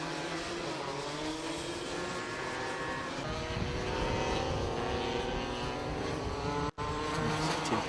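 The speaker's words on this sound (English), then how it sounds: "that kart does sound a little bit like the exhaust is blowing a little bit on that Ian Taylor kart." Racing karts at a Shenington Kart Racing Club SuperPrix round, including Invader, Anderson, Jade and Airkart chassis, with one kart's exhaust blowing; a continuous loud buzz of engines whining and revving along the track, briefly cut near the end.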